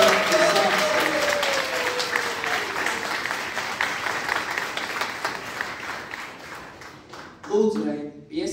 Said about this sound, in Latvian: jūs to apstiprināsiet ar aplausiem